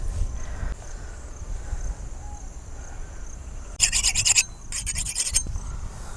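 Knife sharpened on a stone before cutting a large ikura fish: two quick bursts of harsh rasping strokes, bright and scraping, heard close over a low background hum.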